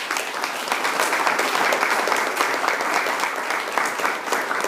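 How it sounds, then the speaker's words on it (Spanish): A church congregation applauds for Jesus Christ during a sermon, a dense, steady wash of many hands clapping at even loudness throughout, with no talk over it. "¿Cuántos pueden dar un aplauso a Jesucristo?"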